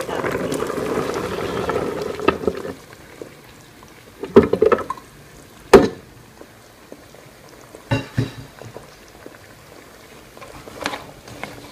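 Coconut milk simmers in a pot for ginataang sitaw, bubbling steadily at first, then quieter with a few clattering knocks as the cooking continues.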